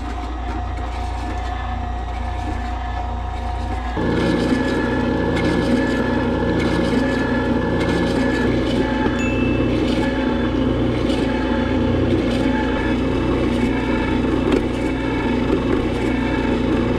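A countertop ice cream maker churns vegan chocolate strawberry ice cream, with a steady mechanical whirring drone that grows louder and fuller about four seconds in and then runs continuously with no talking.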